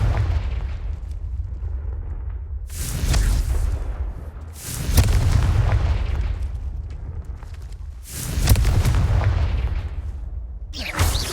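Repeated Confringo fire-blast spells in the game Hogwarts Legacy, several booming explosive bursts spaced a few seconds apart over a low rumbling background.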